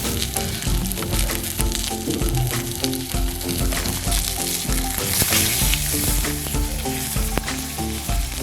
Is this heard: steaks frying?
yes